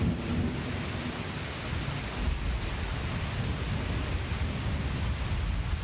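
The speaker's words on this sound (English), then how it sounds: "It's like rain, but it's like mist." Misty rain falls in Fayetteville, Arkansas, heard as a continuous, even hiss of fine drizzle with a low rumbling undertone, steady throughout and without speech.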